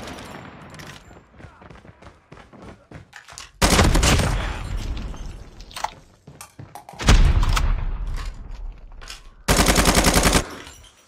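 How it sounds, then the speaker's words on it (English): An automated sentry gun fires in the Call of Duty Mobile shooter, rattling out three loud rapid bursts of about a second each amid scattered nearby shots and thuds. "Hostile sentry gun in your AO."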